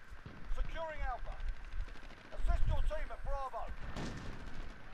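Scattered gunfire and explosive booms in Call of Duty: Modern Warfare, moderately distant, mixed under a man's speech for most of the stretch.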